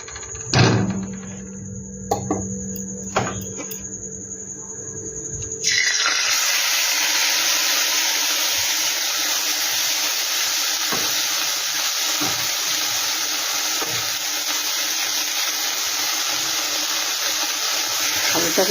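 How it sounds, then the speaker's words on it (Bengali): Sago pearls drop into hot ghee and set off a steady, loud hiss and sizzle of frying that runs unbroken after a few clinks and taps of a utensil at the start. "সাবুটাকে কিন্তু আমি একটু ভালো করে ভেজে নেব"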